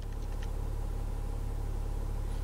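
A 2015 Jeep Grand Cherokee Limited EcoDiesel idles with windows up, a steady low diesel rumble with an even, unchanging rhythm, close and continuous with no voices.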